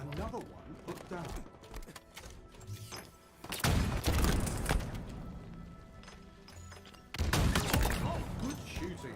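Halo Infinite gunfire rattles in heavy, rapid fusillades, sharp repeated shots swelling into two loud sustained bursts, close and forceful, with voices speaking over the action.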